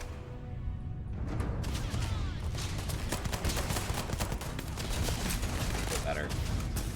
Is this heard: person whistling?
no